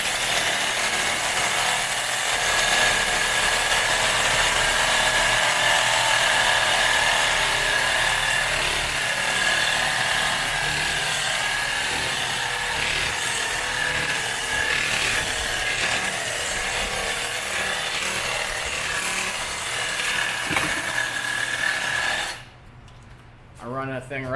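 A battery-operated sawzall cuts through copper and aluminum coil with a steady, continuous buzzing grind that runs close and loud for over twenty seconds before stopping abruptly near the end.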